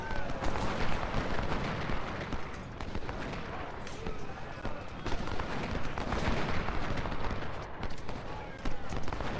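Heavy artillery fire roars through a Civil War battle in the video game Ultimate General: Civil War, a dense, continuous barrage of booming cannon shots and crackling volleys layered over one another, with no clear gaps.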